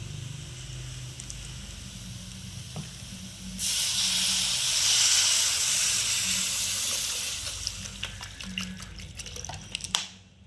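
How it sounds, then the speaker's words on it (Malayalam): Water poured into a hot pan of spiced egg curry masala bursts into a loud, broad steaming hiss that swells, holds for a few seconds, then fades back toward a low, quieter bubbling. "ഇതിലേക്ക് നമുക്ക് വെള്ളം ഒഴിച്ചു കൊടുക്കാം"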